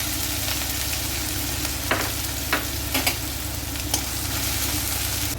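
Crushed garlic and ginger with chilli fry in hot oil in a kadhai, a steady loud sizzle broken by a few distinct scraping strokes of a spoon stirring against the pan, with no talking.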